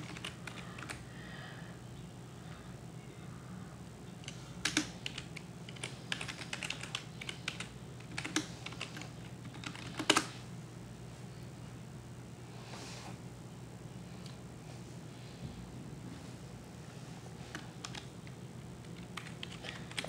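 Computer keyboard typing during a Roblox session, a quiet scattered run of soft key clicks with a few sharper taps, close but faint over a low steady room hum.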